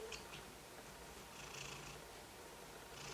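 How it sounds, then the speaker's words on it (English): A house cat purrs close to the microphone, a soft, steady low rumble with gentle rhythmic pulses, quiet and continuous with no talking. "I don't know if you can hear it, but she's purring."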